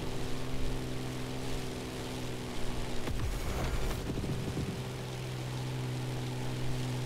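Plane engine in the racing game The Crew Motorfest, a steady droning propeller hum that holds throughout with a brief rougher surge midway, heard alone without talk.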